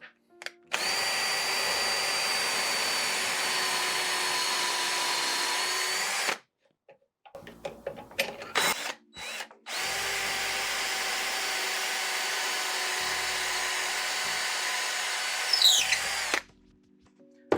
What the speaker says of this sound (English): I'm gonna put it in my standard drill.